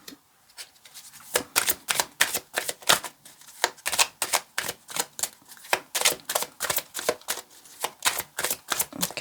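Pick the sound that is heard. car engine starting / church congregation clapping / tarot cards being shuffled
tarot cards being shuffled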